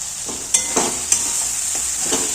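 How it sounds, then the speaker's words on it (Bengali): Spice paste frying in oil in a pan for a potato chicken curry, a steady close hiss of sizzling broken by several scraping stirs of a spoon against the pan, no talking. "মশলাটা কিন্তু আমার কষানো প্রায় হয়েই গেছে, দেখতে পাচ্ছ তোমরা, গায়ে লেগে লেগে আসছে মশলাটা, আর তেলও ছাড়তে শুরু করে দিয়েছে।"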